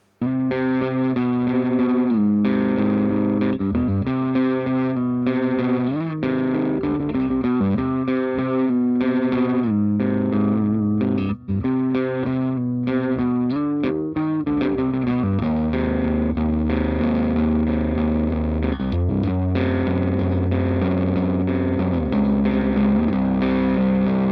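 Heavily distorted electric guitar, a Gibson SG through a Marshall 2266C amp's low dynamic range channel, plays chugging riffs and sustained chords, loud and continuous, with a thick, saturated metal tone throughout.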